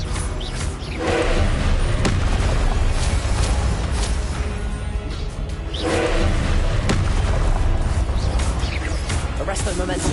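Repeated Confringo spell explosions in Hogwarts Legacy sound as deep thumping booms and whooshing blasts in a busy, loud combat mix, with a voice speaking over the action throughout.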